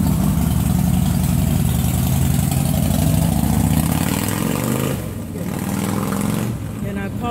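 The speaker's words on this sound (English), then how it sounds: "And I apologize for the motorcycle." A motorcycle engine runs loudly and steadily close by at an outdoor ration cooking session, its low rumble filling the scene before easing off toward the end.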